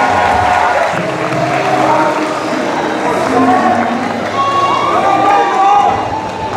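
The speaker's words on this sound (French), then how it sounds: "applaudissez-le, s'il vous plaît" Crowd applause and cheering at the Madin' Japan Festival 2023 fill the space, with voices mixed in and a steady, busy roar throughout.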